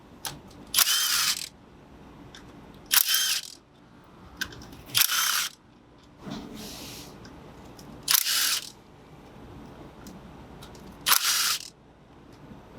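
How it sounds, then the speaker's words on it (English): Loosening 10 mm valve cover bolts on a Toyota Prius engine with a ratchet: six separate bursts of sharp ratcheting clicks, each about half a second long, spaced a few seconds apart, fairly close with quiet shop background between. "now I believe we are ready to pull the bolts for the valve cover"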